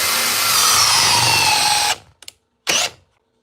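A Craftsman drill on speed 2 in drill mode, fitted with its largest battery, drives a 5-inch structural screw in one loud, steady burst of about two seconds. Two short spurts follow, then quiet.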